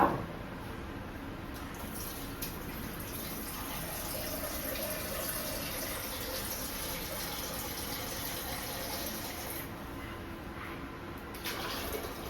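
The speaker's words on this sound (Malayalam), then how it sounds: "ഒരു മൂന്ന് ഗ്ലാസ് വെള്ളം ഞാൻ ചേർത്തിട്ടുണ്ട് കേട്ടോ" About three glasses of water pour into a ground rice batter mixture, making a continuous, close gushing flow that holds steady for around twelve seconds with no speech.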